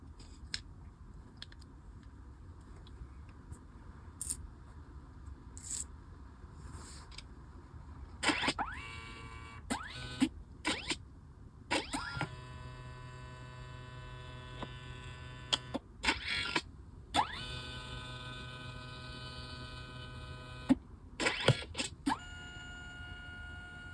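A Kodak photo printer prints a book cover with a series of mechanical whirs, hums and clicks that start and stop in bursts, heard close up with no talking.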